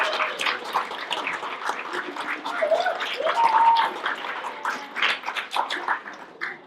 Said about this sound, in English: everybody will join me in giving them a big round of applause